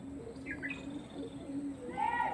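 Kaldama-line pigeons, young birds bred from pure Kaldama parents including white offspring, give a few short close calls over a steady low background hum, with a brighter call near the end.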